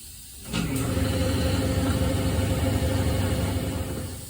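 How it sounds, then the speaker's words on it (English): Forge blower fan blowing air into a homemade coal forge, starting up after a quiet moment into a steady whirring, humming drone that stays level and near before easing slightly at the end. "fan blows right on out here into the exhaust"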